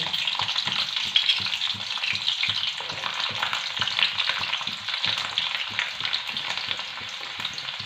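Garlic hitting hot oil with popped mustard seeds, a steady crackling sizzle with dense spattering throughout, with occasional stirring scrapes, close and fairly loud, no voices.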